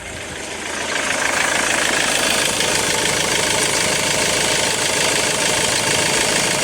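A Jaguar X-Type 2.0 diesel with a no-power fault runs steadily, its engine note rising and then holding as the revs increase, loud and close with no voices.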